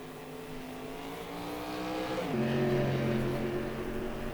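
A race car in a Daytona racing video game pulls away, its engine whine climbing steadily in pitch and swelling louder before settling into a held higher tone.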